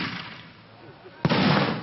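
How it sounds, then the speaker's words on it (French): A cannon shot fired in Marseille to open the pétanque world championship, one sudden loud boom that breaks in after a quieter stretch of crowd or voice noise and rolls on with a sustained rumble. "Un coup de canon résonne dans Marseille et le mondial prend son envol dans 19 sites différents."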